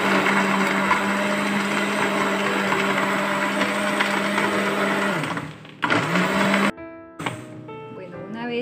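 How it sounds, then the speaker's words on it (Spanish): Electric blender running steadily and loudly while blending a coconut milk mixture for coconut manjar, cutting out briefly near the end before restarting in short bursts. "Luego vamos a licuarla."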